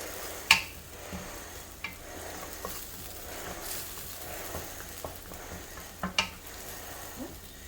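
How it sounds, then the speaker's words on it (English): Curry leaves fry in butter in a pan with a soft, continuous sizzle, punctuated by occasional sharp clinks and scrapes of a utensil stirring. "Let the curry leaves fry with the butter."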